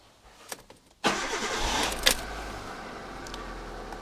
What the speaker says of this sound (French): Bon, donc je vais démarrer la voiture.